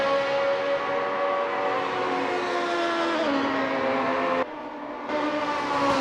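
An open-wheel race car engine in a sim racing game at the Österreichring, a loud sustained tonal whine that climbs in pitch, then drops abruptly at gear changes, with a short cut in the sound before revving up again.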